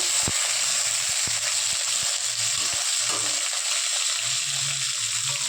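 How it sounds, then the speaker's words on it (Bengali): Flat beans frying in hot oil in a wok give a loud, constant sizzle with occasional clinks and soft knocks from stirring. "কড়াইতে তেল দিয়ে দিয়েছি গরম করতে ওর মধ্যে আমি সিমগুলো ভাজা বসিয়ে দিয়েছি সিমগুলোকে একটু ভেজে নেবো ভালো মতন"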